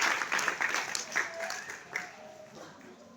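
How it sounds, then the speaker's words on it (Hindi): Audience at a business meeting clapping, a burst of applause that peaks early and fades over a few seconds, with voices mixed in. "प्लीज सभी के लिए एक जोरदार ताली होना चाहिए"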